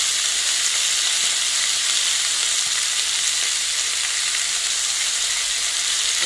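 Steady, loud sizzling of fish frying in a Bengali elephant foot yam and katla fish curry, a dense continuous hiss with faint stirring and no talk.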